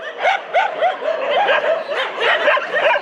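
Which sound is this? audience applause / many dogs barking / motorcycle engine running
many dogs barking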